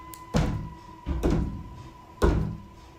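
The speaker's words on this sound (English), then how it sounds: "I've been hearing banging for a good little while now. It comes from the bathroom door over there" Banging on an indoor bathroom door, three dull thuds spaced roughly a second apart, fairly close and distinct against a quiet room with a faint steady hum.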